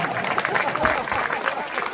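An audience at a Hindi poetry gathering, a kavi sammelan in Lanji, applauds in a short, steady burst of many hands clapping.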